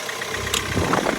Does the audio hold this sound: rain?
no